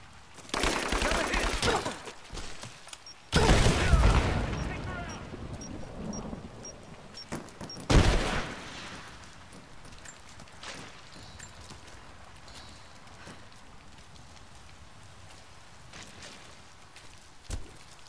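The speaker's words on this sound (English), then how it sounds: "Grenade out!" Explosions and gunfire in the Rise of the Tomb Raider video game: several loud booming blasts with rumbling tails separated by quieter stretches, one final sharp bang near the end.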